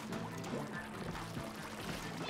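A Splatoon 2 character falls into water, a short, quiet splashing and pouring sound with faint voices underneath.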